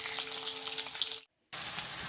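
Onions sizzle steadily in hot oil in a kadai, a close, dense frying hiss that briefly drops to silence before resuming.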